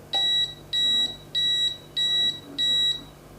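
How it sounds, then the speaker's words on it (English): Five loud electronic beeps from a baby food cooker in an even rhythm, each a steady high tone lasting about a third of a second, close by with nothing else around. "I will be right back as soon as I hear my baby cook beep"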